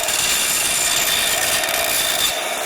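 A bandsaw cuts through a workpiece with a loud, steady rasping hiss heard close up. The hiss continues without a break, then drops off abruptly near the end.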